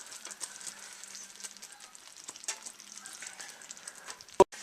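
Cream, butter and vanilla mixture poured slowly into hot caramel syrup, giving a steady close sizzling bubble with small crackles, then a sharp clack near the end.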